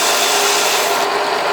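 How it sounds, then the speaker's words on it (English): A drill press spins a worn 180-grit sanding belt against a dado nicker blade being sharpened, giving a loud, steady abrasive rasp that runs unbroken without any voices. "switch our drill press on, and basically I just rotate."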